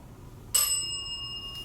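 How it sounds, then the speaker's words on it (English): A single bell dings once, sharp and bright, then rings on with a long fading tone in a quiet room. "First time the bell has dinged."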